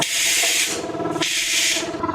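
A Graco LineLazer V 200HS line-striping paint sprayer gun releasing two hissing airless spray bursts, each lasting under a second, loud and close over a constant low pump drone.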